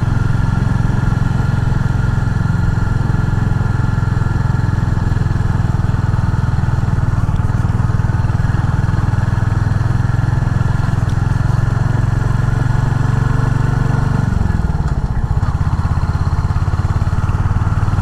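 A Royal Enfield Hunter 350 motorcycle climbs a ghat road with a steady, close, low-pitched engine drone, with no speech and a brief shift in engine tone near the end.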